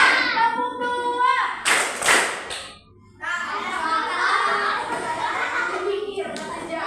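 Children in a classroom clap their hands together twice in two sharp, loud bursts. Kids' voices and talk continue before and after the claps.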